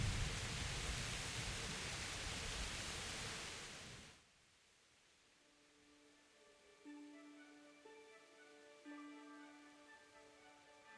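Steady broadband rain hiss in the medieval open-world game Kingdom Come: Deliverance, loud for about four seconds, then cutting to a much quieter bed with faint sustained musical tones.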